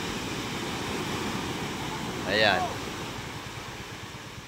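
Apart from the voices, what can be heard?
big ocean waves on the shore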